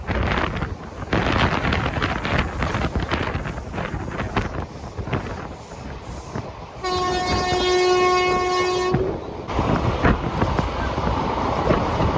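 The Tungabhadra Express thunders along at full speed with continuous loud wheel and carriage rumble and wind buffeting, and a long, strong horn blast sounds midway.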